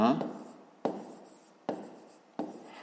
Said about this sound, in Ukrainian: Ну і записуємо